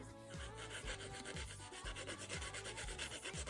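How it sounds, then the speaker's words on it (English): Rapid, even rasping strokes of a nail file smooth semi-cured gel nail strips, close up and rhythmic at about two to three passes per second, with no talking. "So now the next step is just filing."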